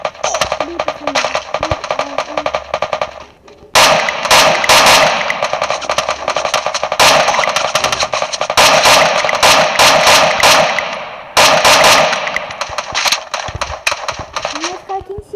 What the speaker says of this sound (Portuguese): cara tá me atirando